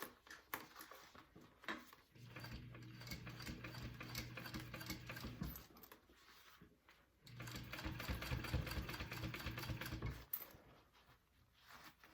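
Sewing machine stitching a bowler bag, two long runs of steady rapid mechanical ticking and hum, separated by a short pause, with lighter clicks and handling noise before and after.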